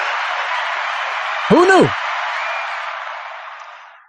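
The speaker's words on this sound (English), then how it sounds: "Clap it up for that." A live show's audience applauds: a steady, dense roar of clapping holds for several seconds and then gradually fades, with one brief voice speaking over it.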